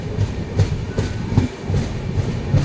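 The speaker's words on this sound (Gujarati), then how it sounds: "આ તો ઓટોમોબાઈલ કરિયર ટ્રેન છે" An automobile carrier freight train rolls past at Viramgam, its wheels beating a steady, loud clickety-clack rhythm of repeated thumps over the rail joints, close by and with no voices.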